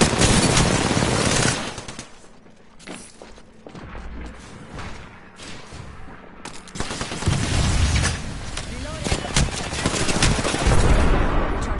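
Rapid bursts of automatic gunfire in the video game Apex Legends, crackling loudly at the start, easing into scattered shots, then swelling into sustained heavy firing toward the end.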